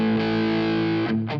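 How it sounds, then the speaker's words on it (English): An electric guitar chord rings through a Marshall-style amp tone driven by a Tube Screamer overdrive on a Quad Cortex preset, one sustained distorted strum held for about a second before a brief second hit. "just kind of a nice Marshall with Tube Screamer in front of it"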